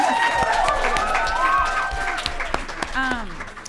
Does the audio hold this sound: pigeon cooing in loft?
no